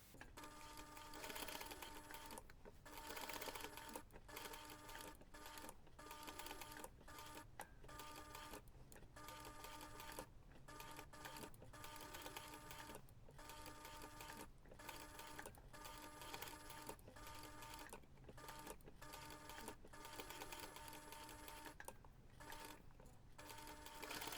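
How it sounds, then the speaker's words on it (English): Sewing machine top stitching around a fabric Christmas gnome ornament piece: a steady mechanical whirring chatter of rapid needle strokes, running in bursts with brief pauses and restarts throughout, close and alone. "you can take this to the machine and we're going to top stitch around the entire piece"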